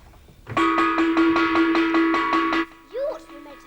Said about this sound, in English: you better give them another rallying gong roll then, just in case they missed the first one.